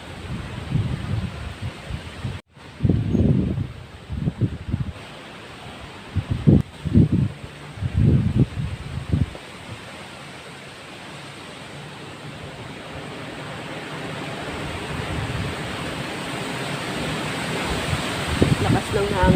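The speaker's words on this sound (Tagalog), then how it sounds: "Lakas ng hangin guys." Gusty wind roars across the microphone outside a church, rising steadily louder, with brief bursts of talking early on.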